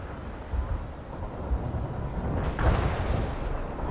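Artillery fire in the real-time strategy game World in Conflict: a continuous rumbling barrage with a heavier boom swelling in near the end, low and dense, with no talking over it.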